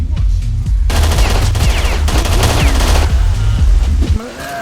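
A gunfight with bandits in the S.T.A.L.K.E.R. video game: rapid bursts of automatic rifle fire and repeated single gunshots crack loudly in close succession, then cut off abruptly near the end.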